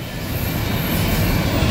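CSX freight train cars, including Tropicana juice cars, rolling past close by in a steady, loud rumble with rhythmic wheel clatter throughout.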